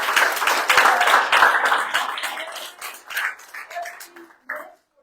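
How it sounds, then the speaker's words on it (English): Applause at a council meeting, dense clapping from a roomful of people that is loud at first, then thins into scattered claps and dies away near the end. "We owe a round of applause to these folks who made this possible."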